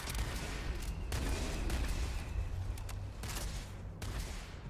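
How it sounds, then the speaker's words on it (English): Gunfire in the Starfield video game comes as a series of dull booming shots and bursts at irregular intervals over a low rumbling ambience, moderately distant and without talk. "you distract the thing and I'll shoot it"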